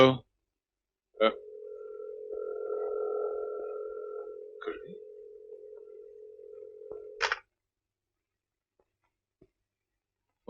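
A telephone dial tone hums steadily for several seconds after a call is cut off. A click comes before it and another click ends it, with faint handling noise in a quiet room.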